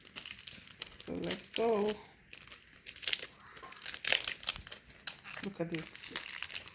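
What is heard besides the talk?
unwrapping cooked Koki beans (black-eyed pea cakes)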